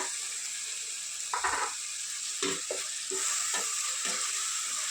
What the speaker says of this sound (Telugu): బాగా కలిపేసి టమాటా మొత్తం ఉడికిపోయి ఆయిల్ పైకి వచ్చే వరకు ఫ్రై చేసుకున్నామండి